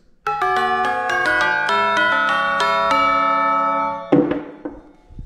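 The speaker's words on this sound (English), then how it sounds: "chimes." Metallic chimes ring out in a rapid descending run of bright, overlapping bell-like tones that sustain together, then a final rustling shimmer as they settle and fade; no voices.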